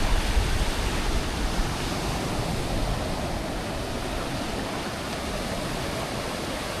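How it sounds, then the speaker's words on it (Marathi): Steady broadband rush of surf at Golden Beach, Puri, loud and continuous without pauses, like waves washing in close by. "समुद्राची खळखळ ऐकू शकता तुम्ही."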